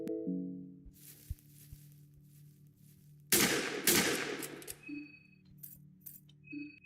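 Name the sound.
gunshots in Fear and Hunger 2 Termina video game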